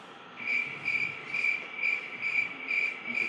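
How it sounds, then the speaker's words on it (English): Crickets chirp in a steady rhythmic pattern, about seven evenly spaced trilling pulses, clear and fairly close against quiet background, used as a sound effect in a science hack demo. "If it's neutral, it will be crickets."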